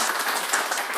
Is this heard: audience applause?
yes